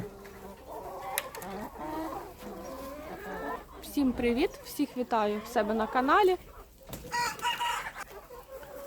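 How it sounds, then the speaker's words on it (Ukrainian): Bantam chickens crow and cluck repeatedly nearby in the sun, a rooster's high crow rising clearly over a person speaking a friendly greeting in Ukrainian. "Чуєте, як курі кукурікають бентамочки."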